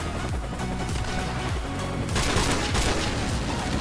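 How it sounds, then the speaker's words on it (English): Airstrike explosions on a Call of Duty: Modern Warfare multiplayer map, heavy booming blasts and crashing detonations piling up into a dense roar that grows louder partway through, close and continuous with no talking. "I've actually got an airstrike on this map while sniping"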